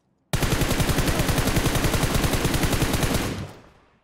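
Sustained automatic-weapon fire in the video game PUBG Mobile, a loud, rapid, evenly spaced stream of shots that starts abruptly, runs for about three seconds, then tails off into a fading echo.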